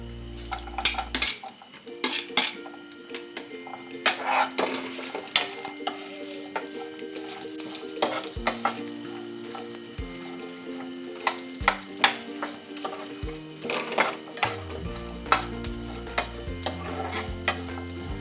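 Grated coconut frying with masala in a pan for Kolhapuri-style chicken rassa gives a steady, close sizzle, broken by frequent scraping and clinking of a spoon stirring against the pan.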